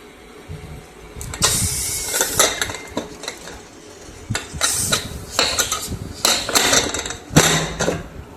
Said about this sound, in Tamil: உருளைக்கிழங்கு போட போகிறேன்.